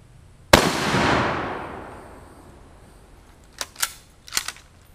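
A 1939 Mosin Nagant rifle in 7.62x54r fires a single sharp, loud shot in a backyard, its report ringing out and decaying over about a second and a half, followed by several faint metallic clanks of the struck steel target.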